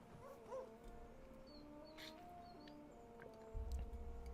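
Dogs yip, whimper and bark in the video game Atelier Ryza 3, quiet against a low musical backdrop with soft tonal game sounds layered over them.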